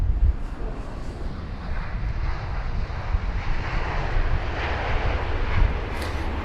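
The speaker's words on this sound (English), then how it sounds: "It's really struggling to get this aircraft down." Airliner on approach to land at London Heathrow in gusty, strong wind; a steady, broad engine roar fills the whole span, buffeted by rumbling wind noise on the microphone, with no talk.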